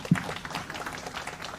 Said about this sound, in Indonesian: jadi boleh tepuk tangan lah untuk ibu-ibu ya.